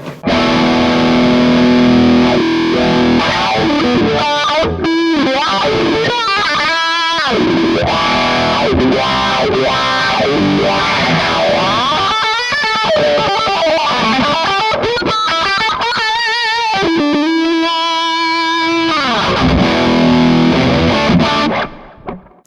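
Electric guitar run through a Kemper profiling amp, its wah-wah sweep worked by a Behringer FCB1010 foot pedal; distorted notes and chords glide through vowel-like rising and falling sweeps, loud and continuous, with no talking.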